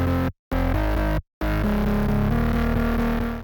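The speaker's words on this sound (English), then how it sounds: "Now let's copy the bass from the chords and drop into this bass layer." Distorted electro/future house synth bass layer, processed with disperser, OTT compression, distortion and a filtering EQ, playing a pulsing, buzzy pattern that cuts out twice in brief gaps before carrying on steadily and loud.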